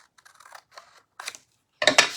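Scissors snipping through material in a few short, crisp cuts, starting as faint light clicks and growing into louder, sharper snips near the end, with no voices.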